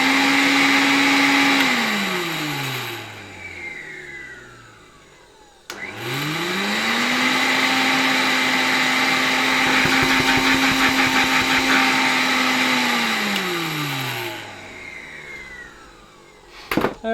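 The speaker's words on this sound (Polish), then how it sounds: "Fajny dźwięk, kiedy ten silnik już troszkę hamuje," Vintage 1970 Zelmer 01 vacuum cleaner with its power regulator turned down, the motor's whine sliding lower as it slows, a loud whistling hum that spins back up and winds down again, with no voices.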